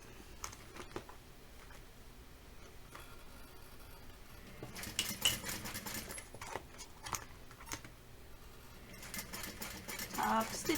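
A sewing machine top stitches a tote bag in short runs, a faint rapid patter that grows louder in bursts, mixed with soft handling noises.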